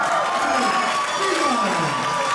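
A crowd cheers and applauds for the winner at a darts match, a dense continuous roar of clapping and shouting at steady loudness throughout.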